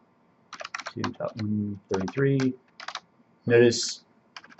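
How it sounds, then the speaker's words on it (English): Computer keyboard keys click quickly and lightly as a command is typed, with the soft taps mixed under someone talking close by. "I could just copy this out, but I'm gonna type it."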